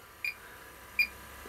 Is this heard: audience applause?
no